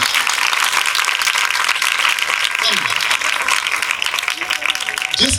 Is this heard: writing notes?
no